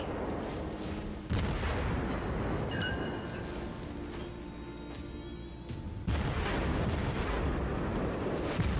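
Heavy naval guns thunder in World of Warships, with deep booming blasts rolling over a constant rumbling battle din; a loud salvo lands near the start and another near the end.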